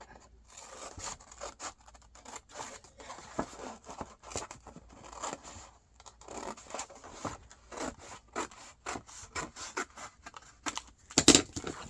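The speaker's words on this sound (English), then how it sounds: "Don't cut the first line, cut the second line." Scissors snip through paper for a junk journal wallet in a series of quiet, irregular crisp cuts and rustles, close by with no talk over them.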